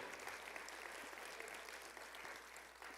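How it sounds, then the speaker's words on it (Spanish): Distant, muffled applause from a large church congregation, a constant rustling wash of clapping at low volume. "Un aplauso al Señor."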